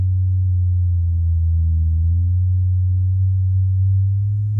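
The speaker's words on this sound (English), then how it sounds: "There's your 100 hertz." A steady low-pitched 100 Hz test tone played through an Energy woofer hums continuously, loud and unbroken throughout.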